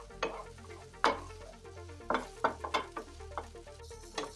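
Onions and garlic splashed with Chinese cooking wine sizzle in a hot pan while a utensil scrapes and stirs them, making a series of sharp, uneven clacks over a soft, steady hiss.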